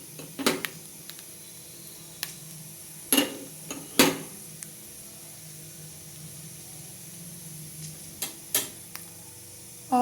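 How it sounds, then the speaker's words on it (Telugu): Mustard seeds and a dried red chili tempering in two tablespoons of hot oil in a kadai, a low steady sizzle broken by sharp pops, clinks and stirring scrapes, close and alone without talk. "ఆయిల్ హీట్ ఎక్కుతుండగా మనం ఈ పోపును వేసేసుకుందాం"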